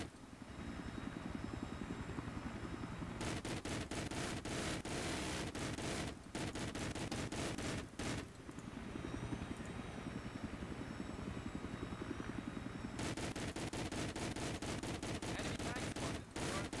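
A Russian attack helicopter in Battlefield 3 hovers with a steady rotor drone, its guns firing in long rapid bursts broken by brief pauses, loud and close, with a player talking faintly underneath.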